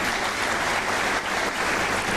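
Audience applause greets Air Vice Marshal Saeed Ansari at a Pakistan Air Force special ceremony, a dense, steady wash of clapping that fills the whole stretch at even loudness.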